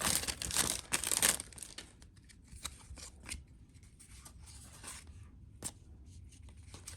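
Trading card pack wrappers being torn open and handled up close, with loud crinkling and ripping at the start followed by softer rustling and occasional paper clicks.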